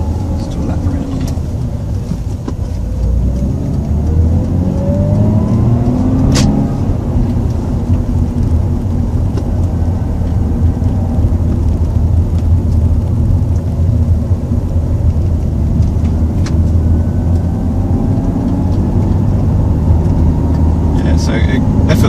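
A Lexus IS200's engine and exhaust pull steadily uphill in a continuous, fairly loud low drone, its harmonics climbing in pitch as the car accelerates, with a shift down partway through.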